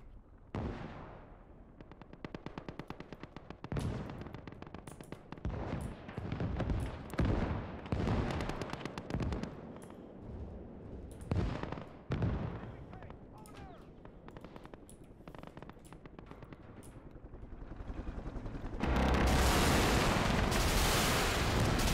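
Mi-24 Hind helicopter making an attack run in a realistic large-scale war video game, with repeated heavy bursts of gunfire and explosive impacts throughout, building to a loud, dense roar near the end.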